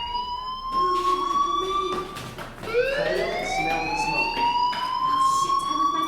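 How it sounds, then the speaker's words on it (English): Fire alarm in the video game Life is Strange, a loud electronic siren tone whose pitch sweeps up and settles in repeated cycles, steady and close with no talk. "Hey, do you hear that fire alarm?"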